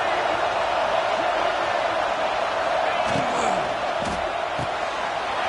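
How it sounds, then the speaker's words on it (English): A big stadium crowd roars near the goal line at a football playoff game, a steady loud wall of cheering with a commentator talking over it. "this big crowd doing everything possible to inspire this defense down here near the goal line"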